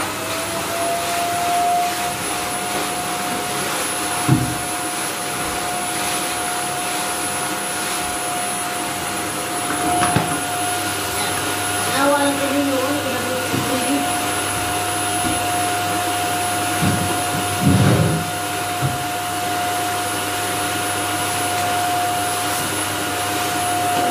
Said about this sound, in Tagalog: ang vacuum ko diri.